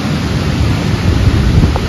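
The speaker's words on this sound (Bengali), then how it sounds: "মানে বৃষ্টিটা ভীষণ জোরে হচ্ছে, জানো তো?" Heavy rain pours down in a steady broadband hiss while a low thunder rumble rolls underneath, close and loud throughout the short stretch with no voices.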